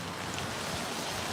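Rain falls steadily outdoors at a church protest, a constant dense hiss filling the space with no distinct drops or voices standing out.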